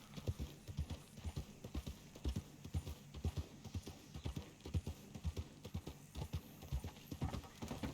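Horse hooves clip-clop in a steady trotting rhythm while riding in Red Dead Redemption 2, close and fairly quiet, with no talk.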